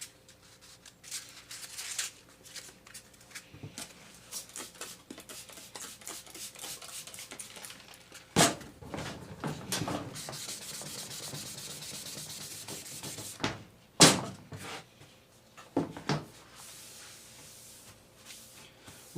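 A car headlight is wet sanded by hand with 3M 600 grit paper and soapy water, giving steady close rubbing strokes with a few sharper scrapes and no talking.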